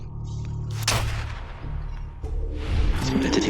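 Gunshot in the Fallout 4 video game with a zombie mod: a loud, sharp blast with a booming tail, set against continuous game ambience and a low hum.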